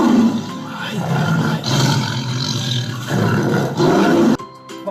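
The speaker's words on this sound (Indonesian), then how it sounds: "Suara harimau itu" A tiger roars in several loud, rumbling, drawn-out bursts close by, each swelling and fading, before cutting off abruptly into quiet.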